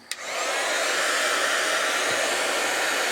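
Heat gun blowing steadily to dry acrylic paint on cardboard, a continuous loud airy whoosh that starts with a click and holds at an even level throughout, with no talking.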